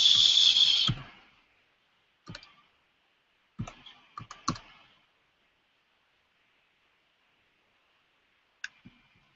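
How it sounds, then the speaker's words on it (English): Keys tapped on a computer keyboard in short bursts, a few quick clicks at a time with pauses between, close and clear in a quiet room after a brief hiss at the start. "I have a new code that I have to type in."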